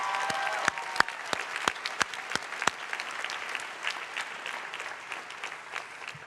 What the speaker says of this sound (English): deserves a round of applause in his absence